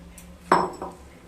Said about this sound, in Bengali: এরপর আমি দুধ দিয়ে দেব। এখানে দুধ আছে 500 ml।